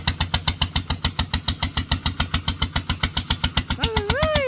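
A walk-behind tractor's single-cylinder engine chugs close by in a fast, steady train of heavy thumping pulses, with a rising and falling whine joining in near the end.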